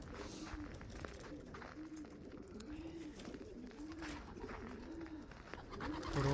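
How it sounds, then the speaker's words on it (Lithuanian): Racing pigeons coo at a loft in Bogaslaviškis, Lithuania, on a cold day, a chorus of rolling, repeated throaty calls in a steady rhythm over a constant background hiss. "Parodžiau, kaip gyvena paukščiai Bogaslaviškyje, sportiniai balandžiai."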